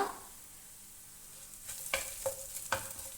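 Crushed fennel seeds and black pepper roasting in a pan for a Kerala egg roast; quiet at first, then a few sharp scraping stirs over a faint sizzle.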